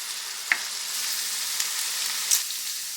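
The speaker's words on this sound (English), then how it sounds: "Now I'm just going to cook this until I start getting a nice brown color on my sausage" Sausage, onions and peppers fry in a pan for shrimp and sausage dirty rice, giving a steady broadband sizzle throughout with a few brief louder pops and stirring clicks, close up and without voices.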